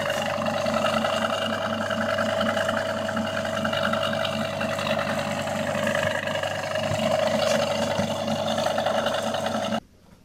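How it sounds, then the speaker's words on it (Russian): A three-phase electric motor with its windings correctly connected runs with a steady, even hum and a fixed tone, close and continuous, then cuts off abruptly near the end. "как работает двигатель и как запускается двигатель с нормальным включением обмоток"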